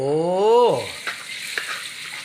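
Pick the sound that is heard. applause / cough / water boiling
water boiling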